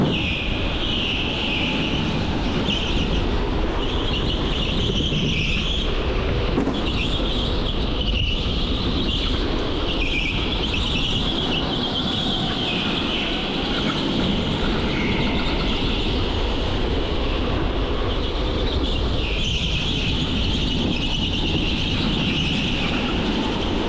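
An electric go-kart is driven hard around the indoor TeamSport Nottingham track, with a continuous high electric whine that swells and eases through the corners over a steady rumble of tyres and hall noise.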